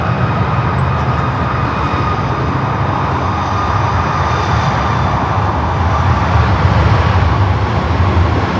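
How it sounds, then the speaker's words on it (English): A Southwest Boeing 737-800 arriving at LAX from Denver, its jet engines producing a loud, steady roar with a whining tone that swells slightly toward the end, with no talking over it. "Next arrival is Southwest, flight 2736, coming in from Denver"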